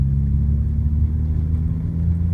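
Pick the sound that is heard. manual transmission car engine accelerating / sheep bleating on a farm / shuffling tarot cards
manual transmission car engine accelerating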